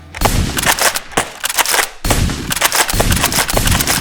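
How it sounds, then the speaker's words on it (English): A Nerf blaster, primed from the side, is repeatedly cocked and fired up close, producing a series of sharp clacks and snaps in irregular bursts. "And then the priming mechanism is from the side here. Shoot it forward."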